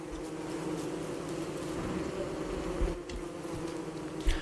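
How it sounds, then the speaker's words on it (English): Bees buzzing in Don't Starve Together, a dense, steady drone close by that holds for several seconds with slight swells and a couple of soft thumps near the end. "Oh, not the bees!"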